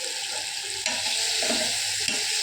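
Paneer pieces frying in a pan, a continuous bright sizzle with soft stirring scrapes and a couple of sudden spits, close and steady, with no voices.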